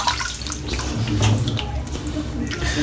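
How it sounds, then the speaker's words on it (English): Warm water runs steadily from a tap for a wet shave, a continuous splashing hiss close by lasting a few seconds with no pauses. "you put the warm water on your face, on your warm hands"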